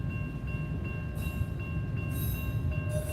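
A CSX freight train rolls through a crossing in Dalton, Georgia at night, a steady, continuous rumble with constant whining tones and brief bursts of high-pitched hiss or squeal, heard from trackside without any voices.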